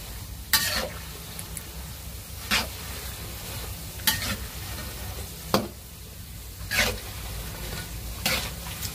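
Food sizzling in hot oil in a pan, frying until golden, with about six sharp scraping stirs spaced a second or two apart over a steady crackle.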